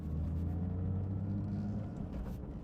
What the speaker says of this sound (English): I am accelerating, shift to second, give it some gas, let out the clutch is all the way out.